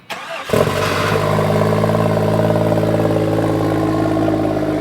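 A vehicle engine with a new exhaust cranks and catches, then settles into a steady, loud, rumbling idle through the exhaust with no voices.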